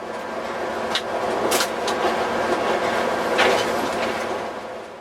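A northbound freight train rolls through the Centralia rail yard on a freezing January afternoon, a steady broad rumble with faint clanks and squeals rising briefly over the continuous roar.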